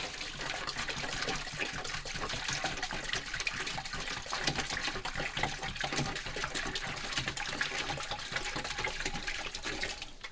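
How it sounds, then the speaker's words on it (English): Two gallons of vinegar poured into a bucket for descaling an on-demand water heater, a steady, loud, continuous splashing rush of liquid running without pause and with no talking. "I'm adding 2 gallons of this acid. Or vinegar."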